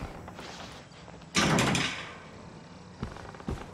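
Inside a game setting in Outlast, a locked door is tried and rattled: a loud clattering jolt in the middle, followed by two softer knocks, over a low ambient hum.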